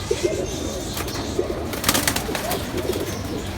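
Pigeons kept in a home loft coo in soft, low, repeated phrases, several birds overlapping at close range over a steady background hiss.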